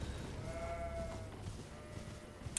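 Sheep in Elden Ring bleat in a drawn-out, wavering call, close and clear over a soft continuous background ambience.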